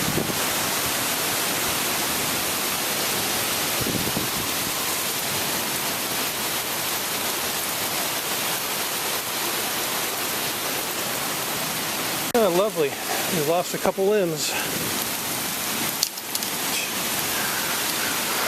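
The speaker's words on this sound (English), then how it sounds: "Oh yeah, rain is here now." Steady heavy rain driven by a microburst wind storm roars as a constant broadband wash, with gusty swells and a few sharper knocks; people talk briefly over it near the end.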